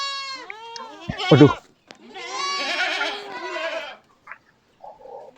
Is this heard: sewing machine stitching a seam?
no